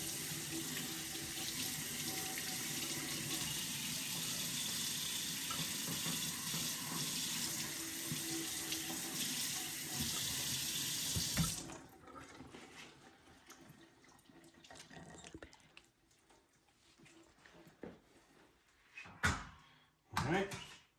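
A kitchen tap runs steadily into a sink as rabbit meat is rinsed, a loud continuous water rush that stops about halfway, followed by quieter handling clatter and a few knocks.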